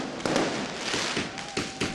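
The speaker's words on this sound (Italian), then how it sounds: "I fuochi d'artificio illuminano la calda notte delle 4 città calabresi chiamate al ballottaggio" Fireworks burst over a warm summer night in Calabrian towns celebrating municipal runoff election results, a dense continuous crackle with repeated louder pops roughly every half second.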